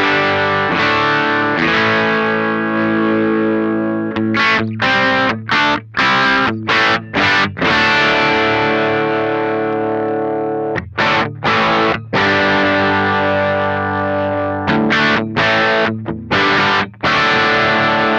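A heavily distorted electric guitar through a cranked Marshall amp and a Tone King Ironman II attenuator plays loud sustained chords broken by choppy muted stabs, alone and close, with a thick saturated tone.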